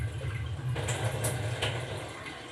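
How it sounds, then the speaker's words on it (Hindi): Water poured off soaked lentils in a home kitchen, heard as a steady, close stream of splashing liquid with brief brighter spatters and no talking. "ये बाकी का पानी निकाल देते हैं"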